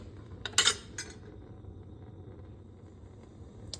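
A utensil stirs beef chili with beans in a pot, giving a few sharp metallic clinks and scrapes close by early on, a lone clink later, then a quiet background hum.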